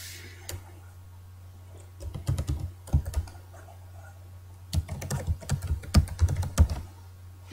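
Keys on a computer keyboard clack in two close bursts of quick typing separated by a pause, over a low steady hum with no voices.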